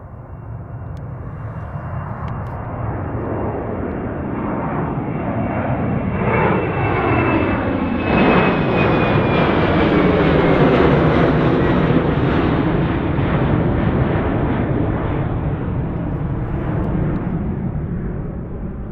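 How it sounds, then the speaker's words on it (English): A JetBlue jet airliner takes off from runway 1 at Reagan National, its engine roar swelling to a loud, broad rumble with a whining tone, then slowly fading as it departs. "JetBlue 2454, wind calm, runway 1, clear for takeoff."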